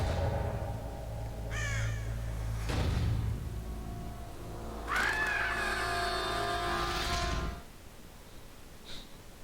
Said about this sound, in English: That crow did not sound like a crow.